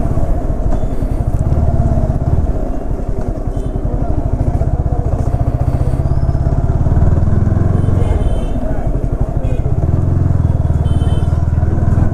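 A Yamaha R15 V4 motorcycle ridden on the road, its engine a steady, loud, close rumble throughout with wind buffeting, no pauses in the drone.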